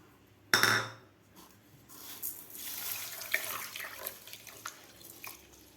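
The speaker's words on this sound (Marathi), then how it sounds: "आता सुरुवातीला आपल्याला हे तांदूळ 2 पाण्याने स्वच्छ धुवून घ्यायचे आहेत" Basmati rice rinsed in water, with a sharp splash and clatter near the start followed by continuous soft running-water and swishing sounds, close and fairly quiet, no voices.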